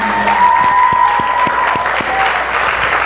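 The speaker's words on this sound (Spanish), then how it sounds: "Le damos un aplauso a ustedes una vez más." A church audience claps loudly in steady applause after a preaching service, with a few distinct sharp claps standing out over the dense crowd noise for the full few seconds.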